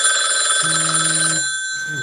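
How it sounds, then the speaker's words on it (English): An incoming call on a phone, an electronic ringtone with steady bright tones and a lower melodic line that shifts pitch, fairly loud and continuous, without speech. "that's Maya ringing, by the way"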